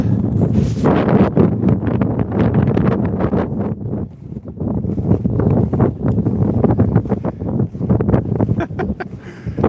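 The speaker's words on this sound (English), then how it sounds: "I'm really getting beaten by the wind out here." Strong wind buffets the microphone outdoors near the Norwegian border, a steady, loud roar with gusting surges and rustling throughout, no talking.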